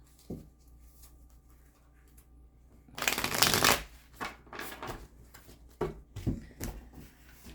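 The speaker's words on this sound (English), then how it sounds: "Okay, one more shuffle." Cards riffle in a loud burst, followed by several quicker shuffling flutters and taps, close and crisp with no talking.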